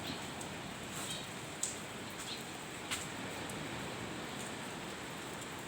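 Steady rain falls during a stormy spell, a continuous even hiss of drops with a few faint, brief ticks and splashes rising over it and no voices.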